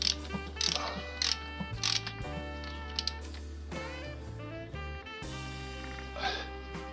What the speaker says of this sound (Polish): to jeszcze tutaj możemy już dokręcić też i te trzy od przepustnicy